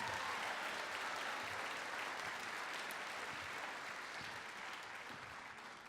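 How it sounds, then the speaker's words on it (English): An audience in a theater at a youth awards ceremony claps in a sustained, dense round of applause that slowly tapers, moderately distant and fairly quiet. "a big round of applause to all of our innovation category nominees and"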